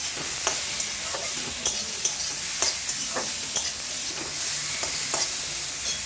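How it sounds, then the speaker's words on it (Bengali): Grated beetroot frying in oil in a pan, a steady hiss of sizzling broken by regular sharp scrapes and taps as it is stirred, close and clear with no talk. "ওই তেলটার মধ্যেই আমি গেট করা বিটগুলোকে দিয়ে দিলাম দিয়ে একটু নেড়ে চেড়ে ভালো করে ভাজা করে নেব"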